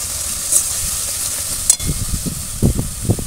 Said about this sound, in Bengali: আদাটা কাঁচা গন্ধ যাওয়া পর্যন্ত একটু কষিয়ে নেব।